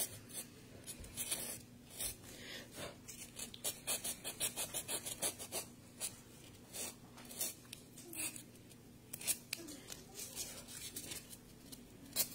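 Folded sandpaper rubs and rasps against a handmade snowman candy holder while its mouth is being carved, a steady run of close scratchy strokes with quiet talk in the background.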